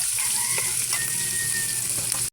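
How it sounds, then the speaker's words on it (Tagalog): Ground meat sizzles loudly in a hot pan with a constant crackling hiss while it is stirred, short and close. "At ilagay ko na yung giniling. Mikos ulit natin yung giniling."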